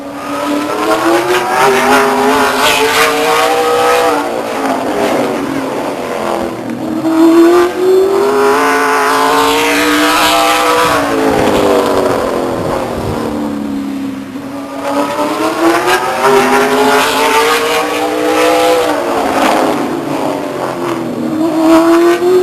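Late model stock race cars circle Stockton 99 Speedway, engines roaring loud and continuous with rising and falling pitch as they sweep past through the laps, an occasional tire squeal in the mix.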